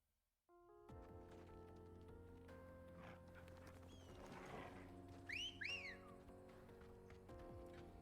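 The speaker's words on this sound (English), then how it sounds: "Why is the whistle a cat call?" A two-note whistle in the style of a cat call, sounded in the Final Fantasy XVI video game, rises and falls briefly twice over steady game music and ambient sound, moderately loud and without speech.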